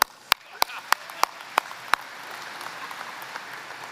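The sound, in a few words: audience applause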